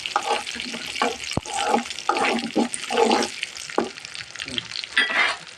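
Onion and garlic hit hot oil for a dal tarka, giving a crackling sizzle broken by scraping stirs, close and fairly loud with uneven bursts.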